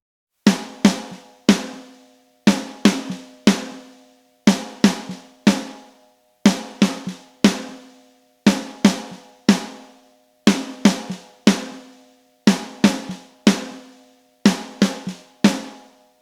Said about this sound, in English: Let's hear the snare with these default settings.